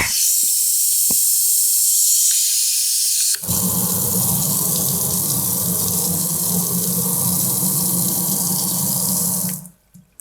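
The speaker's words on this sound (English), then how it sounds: "A little water." Water gushes steadily from a tap into a sink, loud and continuous, then shuts off abruptly at the end.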